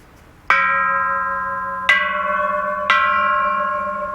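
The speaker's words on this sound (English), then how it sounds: "Pretty cool. I love these bells." Three loud bell strikes ring out one after another, each leaving a long, shimmering resonant tone that decays slowly.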